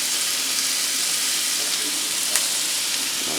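Shrimp sizzling steadily in a hot pan for Cajun shrimp and sausage Alfredo, a continuous close hiss with one brief clink partway through.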